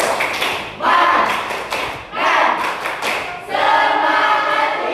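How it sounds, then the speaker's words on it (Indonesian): A group claps a rhythmic cheer pattern in three loud bursts, with voices chanting along between the claps. "kita tepuk semangat dulu gimana supaya sehat"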